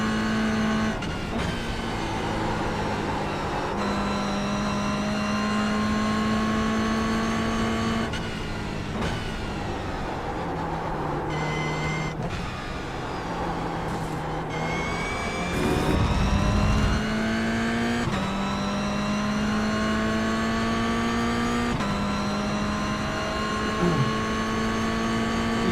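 A racing car in a sim-racing session, with a Porsche mentioned, drives a full lap around a track, its engine droning steadily while rising and falling through gear changes, with brief louder bursts and no talk.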